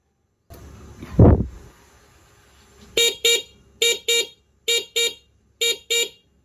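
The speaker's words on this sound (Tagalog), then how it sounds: "yung ating small horn na tumutunog na naka-relay na" A small electric car horn wired through a relay beeps in six short, evenly paced blasts, loud and close, after a brief dull thump and quiet hum.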